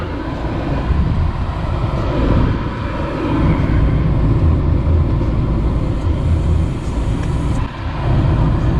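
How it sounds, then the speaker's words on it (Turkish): A car engine idles steadily during an air-conditioning foam cleaning, giving a loud, close, continuous low rumble with only a slight dip near the end and no talking. "Bir 10 dakikada böyle çalıştıracağız arabayı."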